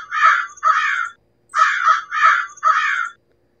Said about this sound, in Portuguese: Corvo.